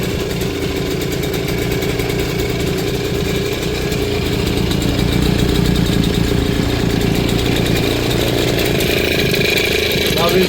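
A 1978 Di Blasi R2 50cc two-stroke folding motorcycle in very good running condition idles steadily and close by, a continuous low buzzing putter that holds even for the whole stretch.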